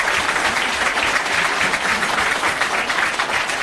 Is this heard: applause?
yes